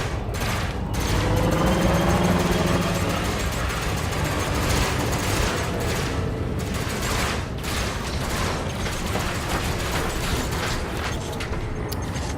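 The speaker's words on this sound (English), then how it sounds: "Have a full load of multi-cannon in your butt." Spaceship multi-cannons in Elite Dangerous fire in a dense, continuous barrage of rapid shots that runs for several seconds at a steady, loud level, with occasional heavier impacts.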